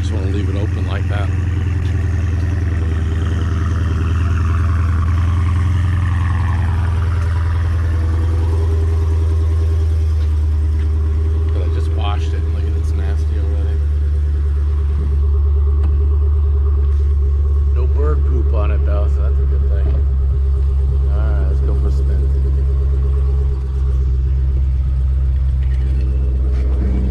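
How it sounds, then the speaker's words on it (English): A Dodge Challenger Widebody on its stock exhaust, with the baffles held open, gives a deep, continuous engine rumble that stays loud and close through the whole drive while people talk over it. "I like my stock exhaust, I just wanna leave it open like that."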